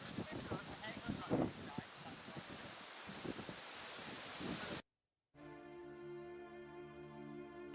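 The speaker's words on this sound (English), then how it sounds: "Around us at this moment in time, there is only wind and wind and wind." Wind blows around the Ulster Memorial Tower in a loud, rushing roar against the microphone for several seconds. It cuts off abruptly and gives way to a steady, tonal hum.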